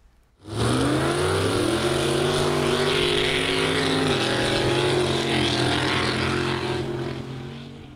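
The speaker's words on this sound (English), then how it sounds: "Montana Off-Road Extreme Racing hosted mud drag racing this afternoon." A truck in a mud drag race roars down a muddy racetrack, its engine note revving loud and sustained for several seconds before easing slightly near the end, with no talk.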